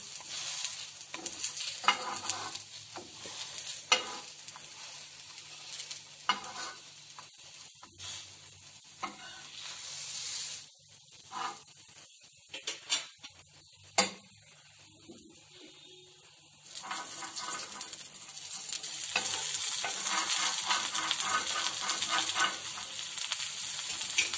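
Potato tikki patties frying in a pan, close continuous sizzle that drops quieter in the middle with scattered scrapes and knocks as they are turned, then swells back to a loud steady hiss; no talking.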